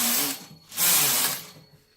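The carriage of a Brother KH-900 electronic knitting machine slides across the needle bed to knit a row of stockinette stitch. Its rasping, whirring passes rise and fall twice within two seconds, close and fairly loud, with no voices.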